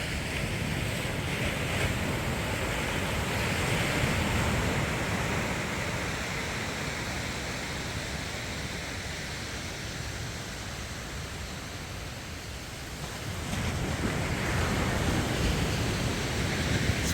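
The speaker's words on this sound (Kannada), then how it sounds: "ಆ ಅಲೆಗಳ ಸೌಂಡ್ ಅಷ್ಟು ಚೆನ್ನಾಗಿ ಕೇಳಿಸ್ತಾ ಇದೆ." Sea waves roll and break continuously on Kundapura's private beach on the Karnataka coast in the early morning, a loud, steady wash of surf mixed with gusting wind buffeting the microphone, swelling again toward the end.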